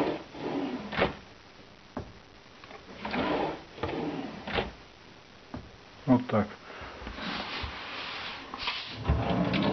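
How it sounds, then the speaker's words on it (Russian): A soft-close kitchen drawer on a kitchen cabinet set is pushed and glides shut on its own, giving a few soft wooden knocks and slides amid nearby speech. "Потом доводчики еще есть на ящичке. Толкнули, и он сам доехал."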